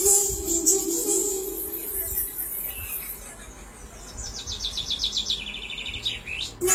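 Recorded sparrow chirps played back as an audio test through a reworked 5.1 home theatre amplifier: a series of rapid, thin, high chirps and trills that grow denser toward the end, at moderate volume over a faint steady hum.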